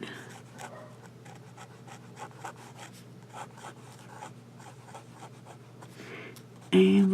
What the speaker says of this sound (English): So let's do some writing.